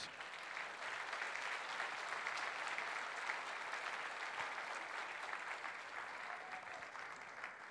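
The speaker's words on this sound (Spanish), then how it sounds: "El aplauso para ellos." Audience applause at a collective wedding ceremony in 2019, steady sustained clapping from a sizable crowd that holds at an even level throughout without talk.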